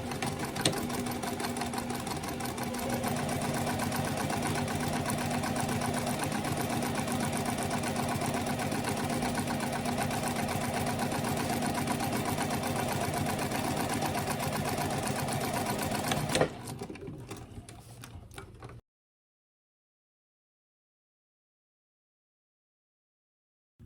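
A sewing machine runs steadily for about sixteen seconds, stitching the seams of an uninterfaced all-cotton envelope pillow cover with a size 14 needle and a size 4 stitch length. Its even mechanical whir then slows, stutters and stops.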